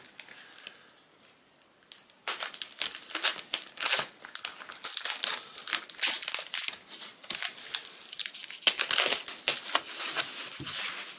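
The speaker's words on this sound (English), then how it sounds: "It's wrapped up just like before. Multiple layers of tape. And of course this foam wrapping." Layers of tape and foam wrapping around a package holding a 1967 Albanian SKS rifle are cut and pulled apart, making a run of loud, close crinkling, crushing and tearing sounds after a quieter opening.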